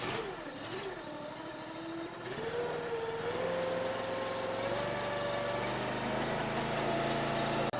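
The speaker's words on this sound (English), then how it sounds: "This machine comes with a 38 horsepower fuel injected engine" A firewood processor's 38 horsepower fuel-injected engine runs steadily, its low hum rising in pitch as the throttle opens partway through, a continuous loud drone with no talk.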